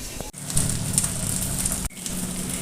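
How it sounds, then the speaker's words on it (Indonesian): Tilapia fish grilling on a Teflon pan over a low flame gives a steady, dense sizzle and crackle like light rain, close and continuous, broken by a couple of brief drops in level. "kita bakar ya bunda dengan api yang kecil seperti ini."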